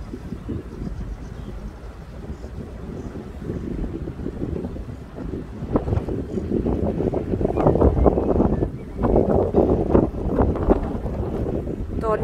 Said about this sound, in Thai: ่องเรือกันต่อค่ะล่องเรือค่ะ